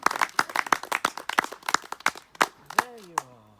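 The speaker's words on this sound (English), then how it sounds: "when I uncover him, will you give the first round of applause" A small outdoor crowd claps as a statue of Gilbert White is unveiled, with sharp, separate, uneven hand claps ringing out rather than a dense roar. A voice speaks briefly near the end as the clapping thins.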